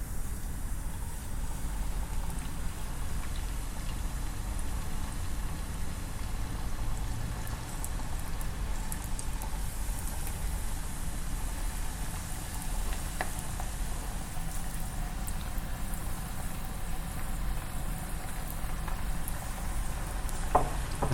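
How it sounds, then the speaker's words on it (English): Rice cakes cut into pieces and coated in cornstarch sizzle steadily in hot oil, a constant close bubbling hiss with no voices over it. "Then fry."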